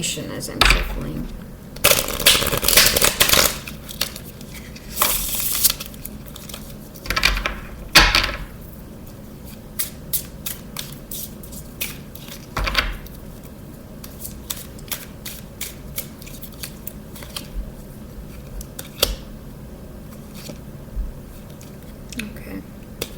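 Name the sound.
shuffling tarot cards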